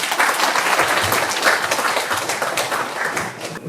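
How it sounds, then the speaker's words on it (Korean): A forum audience applauds in a hall, many hands clapping at once in a dense, steady burst that stays loud for nearly four seconds before tapering slightly. "우리 주역들한테 큰 박수를 한번 올리는 걸로 제가 인사 말씀 마치겠습니다."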